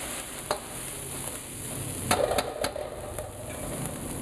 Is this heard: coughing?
no